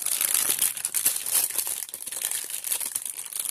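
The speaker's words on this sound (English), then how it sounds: "sorry about the crinkling there" Plastic packaging around Dollar Tree Halloween resin molds crinkles and crackles loudly and continuously up close, with dense irregular rustling and no voice.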